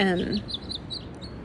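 Faint high bird chirps repeat at a steady pace in the background while a voice speaks briefly at the start.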